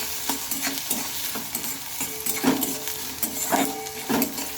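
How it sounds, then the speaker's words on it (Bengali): A generous amount of finely chopped garlic fries in a pan, a steady close sizzle with repeated scraping stir strokes in an irregular rhythm. "আমি অনেকটা পরিমাণ রসুন এটাকে কুচি কুচি করে নিয়েছি এগুলোকে এখন একটু ভেজে নিতে হবে"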